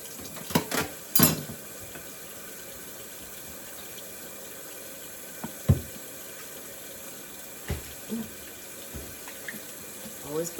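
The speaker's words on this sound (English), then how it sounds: "Get me some hot dish water." Hot water runs from a tap into a kitchen sink for dishwater, a steady stream with scattered clinks and knocks of dishes nearby, no talking.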